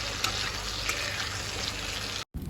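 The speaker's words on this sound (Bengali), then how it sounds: "এদিকে কুমড়ো ভাজা হচ্ছে।" Pumpkin slices frying in a pan at home, a steady close sizzle and crackle of hot oil that runs without pause before a brief cut.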